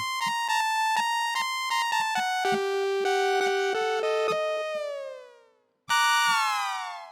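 A bright, buzzy synthesizer tone from a Korg Volca Keys steps down through pitches like a wailing siren, drops out briefly, then returns loud and sustained.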